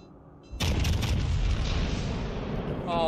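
Naval guns fire in a World of Warships Legends battle, a sudden loud boom that rolls into a long, heavy rumble and roar lasting several seconds.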